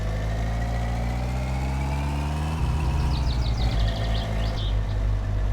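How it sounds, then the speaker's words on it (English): A steady, low car engine idles close by in the game My Summer Car, its hum shifting pitch slightly midway, with faint higher chirps above it. "I do like the engine sound on this thing though."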